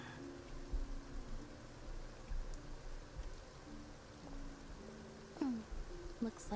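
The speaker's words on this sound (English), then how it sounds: "It's raining!" Steady rainfall in the video game Genshin Impact, set in Fontaine, a soft continuous patter and wash with faint splashy details and a few brief tonal game sounds over it.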